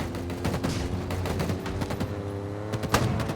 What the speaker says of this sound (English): That turret is eating us alive.